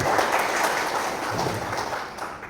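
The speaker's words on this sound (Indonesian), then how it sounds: "Tepuk tangan buat Pak Untung." An audience at a leadership and integrity training address claps steadily, a dense, sustained round of applause that tapers slightly toward the end.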